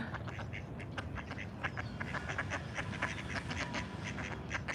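Many ducks quack at a lake in Dallas in mild weather, a busy overlapping chorus of repeated calls near and far, with some squabbling and a steady outdoor background.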